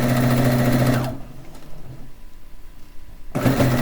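A sewing machine stitches a quilt border with a steady, loud mechanical hum that stops for a couple of seconds and then starts up again.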